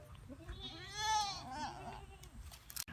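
A goat bleats once, a drawn-out wavering cry close by at moderate loudness over faint outdoor background noise, followed by a quick sharp knock at the end.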